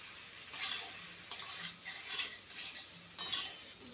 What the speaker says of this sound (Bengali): পাস্তা দিয়ে আমি খুব ভালো করে মিশিয়ে নেব।